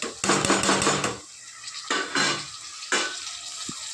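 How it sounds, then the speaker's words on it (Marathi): Tomatoes sauté in a pan for mutton gravy: bursts of loud sizzling and stirring scrapes come in several waves, with quieter frying in between and a brief knock near the end. "तर हे व्यवस्थित टमाटर मऊ होईपर्यंत याला परतून घेऊ"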